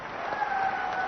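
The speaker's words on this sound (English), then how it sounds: "let us give a big hand and a great applause to the untiring, energetic Robert Burgess for his time." A brief, steady wash of audience applause at a graduation convocation, heard as an even patter of many hands from a distance.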